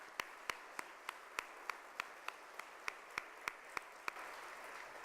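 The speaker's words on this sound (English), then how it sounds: "So we can give them a round of applause" Sparse clapping at a conference opening session, roughly a dozen sharp, evenly spaced claps over about four seconds, fairly faint and close together, ending in a softer wash of noise with no voices over it.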